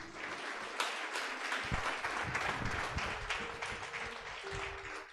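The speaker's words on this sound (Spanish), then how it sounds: "Dale un aplauso al Señor." Congregation clapping in church, a steady, fairly quiet patter of many hands continuing for several seconds with a few louder individual claps.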